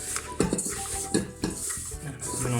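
Choux pastry dough being mixed by hand in a home kitchen, with soft clatters of bowl and utensils and several sharper knocks between quieter kneading and squelching.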